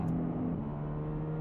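A muffled race car engine from iRacing drones steadily, dull and damped as if heard through a barrier, a continuous low hum with no voices.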